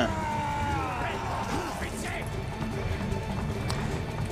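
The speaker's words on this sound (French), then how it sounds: "Oh, les chevaux!" Horses galloping in Call of Duty Black Ops 2, rapid clip-clop hoofbeats with a whinny over a busy game soundscape, and someone talking excitedly over the rumbling run.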